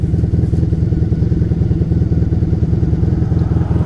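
A 1987 Honda Super Magna motorcycle cruises with a loud, steady, throbbing engine note and a rapid, even pulse, close up with no talking.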